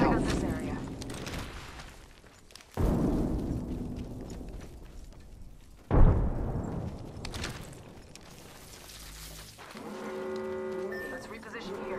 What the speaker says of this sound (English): Throwing thermite! Tossing a grenade!